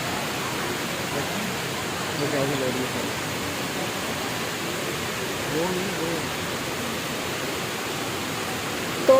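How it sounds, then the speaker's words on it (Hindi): An indoor waterfall at Dubai Mall pours down from the fourth floor to the first, giving a steady, dense rushing wash of water that holds evenly throughout with no talk over it. "फोर्थ फ्लोर से लेके फर्स्ट फ्लोर तक ओवरऑल टोटली इसी तरह पानी जो है वो बहता है"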